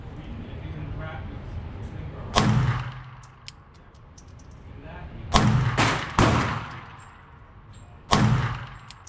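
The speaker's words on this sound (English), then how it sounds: "I want to shoot it a little bit." Five sharp gunshots from a Glock 42 .380 ACP pistol at an indoor range: an isolated shot, a quick cluster of three, then a final one, each with a booming echoing tail over background chatter.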